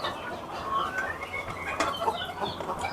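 Silkie and other fancy-breed chickens on a farm cluck softly at a distance over a steady outdoor hum, with scattered short calls and no talking.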